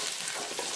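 Paneer cubes fry and get stirred in a hot pan, a short burst of bright sizzling hiss close by, with no talk.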